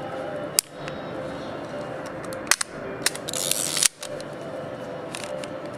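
A Hasselblad SWC camera with a Carl Zeiss Biogon 38mm f/4.5 lens gives several sharp, close mechanical shutter and aperture clicks, spaced irregularly over a quiet background hum.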